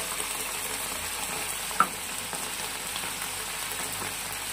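Capsicum, onion and tomato fry in a hot pan for chilli chicken, giving a steady, moderate sizzle with one sharp tap or stir partway through. No one speaks.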